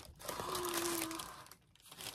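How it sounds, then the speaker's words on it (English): A tissue-paper package tied with a little bow is unwrapped, giving soft, close crinkling and rustling of thin paper. "Another pretty little bow tissue paper package."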